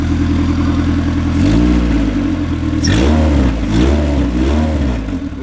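A car engine, a right-hand-drive project car, idles loudly and close by, then rises in several quick, light throttle blips around a steady running note, with no talking.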